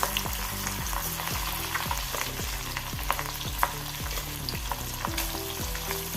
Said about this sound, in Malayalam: എണ്ണ ചൂടായി മീനിട്ട് കൊടുക്കാം